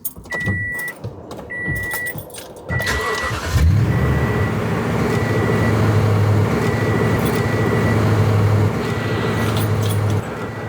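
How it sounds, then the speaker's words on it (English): A car engine is jump-started with a YESPER portable battery jump starter. Dashboard chimes beep at intervals, then the starter cranks briefly and the engine catches and settles into a loud, steady idle hum close by. "then we just start our vehicle now. Hopefully this will fire up for us here"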